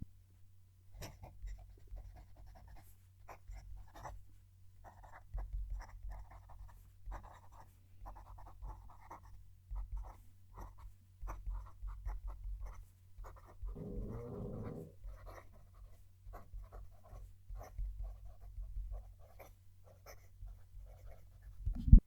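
A gold-nibbed fountain pen scratches across paper in a quiet room, with many short light strokes and pauses in an irregular rhythm. Faint panting and a brief growl sound near the middle.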